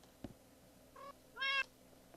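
Cat meowing in the video game Minecraft: two short, quiet meows, the second longer and louder, over a faint background with a soft thump just before them.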